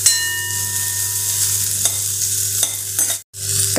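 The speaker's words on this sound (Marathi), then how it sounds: "कांदा नरम होईपर्यंत याला परतून घेऊ." Chopped onion, garlic and ginger are stirred in a hot pan, a loud close sizzle and frying hiss with spatula scrapes, briefly dropping out near the end before resuming.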